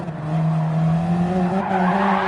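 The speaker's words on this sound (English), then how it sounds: "it unsettles his car and sends him spinning" A race car in a racing video game loses grip and spins out, its tires squealing in a sustained, wavering skid over the engine drone that rises and shifts pitch as the car slides.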